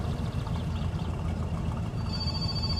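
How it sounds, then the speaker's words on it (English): A telephone rings in the My Summer Car video game, a repeating electronic ring rising near the end over a loud, steady engine-like rumble. "there is a phone call."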